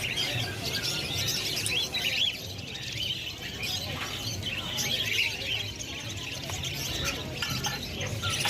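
Many caged exotic birds chirp, tweet and squawk at the Kolkata bird market. Their chatter is a dense, continuous layer that sounds fairly faint, as if heard from a short distance.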